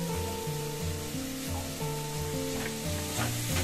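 Onions sauté in a pan, salted to soften quickly, giving a continuous close sizzle under sustained tonal music with stepping notes, loud throughout.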